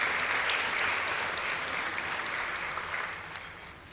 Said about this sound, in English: let's again give Olive Tree a round of applause for the fabulous food and service